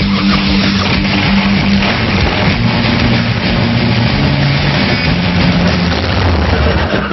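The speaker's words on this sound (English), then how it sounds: "It's time to see if this engine will roar." A custom-built motorcycle engine with a stainless steel exhaust roars loudly and continuously, a dense, rough, close-up blast of engine and exhaust noise with shifting tone and no voices.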